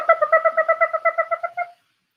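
A bird's rapid series of about a dozen evenly spaced, hooting notes, like an owl's call, repeating steadily for under two seconds, then stopping into silence.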